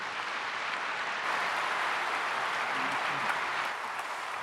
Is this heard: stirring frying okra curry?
no